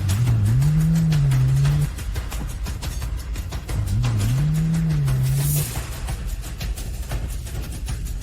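A car engine rumbles steadily and close throughout as the vehicle pulls off, while a wavering low tone rises twice over the noise.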